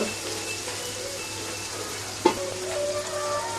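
Lote fish frying with ginger and onion paste in a pan: a steady close sizzle with a single sharp spatula clack partway through, then continued stirring noise under the frying, with no voices.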